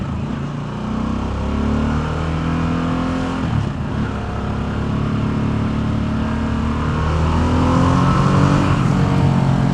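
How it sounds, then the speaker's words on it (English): Harley-Davidson Sportster S accelerating hard, its engine note climbing through gears with continuous loud roar and rising pitch, heard from the rider's position amid heavy wind rush. "And these bikes do sound really good when they're opened up."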